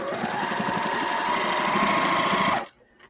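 Sewing machine stitching a quilt block: a steady, rapid mechanical whir and needle chatter runs close and clear for about two and a half seconds, then stops abruptly, leaving near silence.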